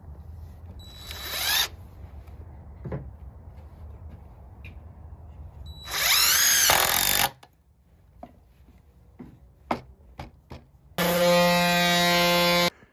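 A power drill drives 2.5-inch screws into 2x4 lumber while a queen bed frame is built, with two loud sustained whirring bursts near the start and end and a fainter burst early on, separated by quiet knocks and clicks.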